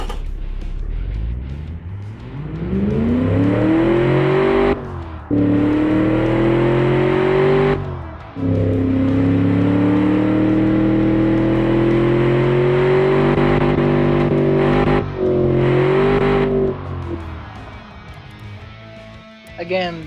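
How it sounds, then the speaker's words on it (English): A tuned car engine with a professionally tuned new ECU and modified exhaust revs hard and repeatedly, rising and falling in pitch with brief pauses between pulls, loud and close, with no talking. "Let's hear this engine after it has a new ECU tuned by a professional."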